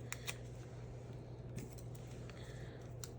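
Clear tape coated with alcohol ink is cut with scissors, giving a few faint, crisp snips spaced apart over a quiet background hum.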